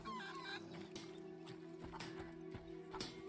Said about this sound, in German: Hühner, Hühner, Hühner.